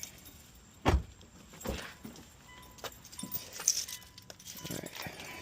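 Car keys for a 600whp Mitsubishi Evo 8 jangle in short bursts, picked up close along with a few handling clicks and knocks, no one speaking.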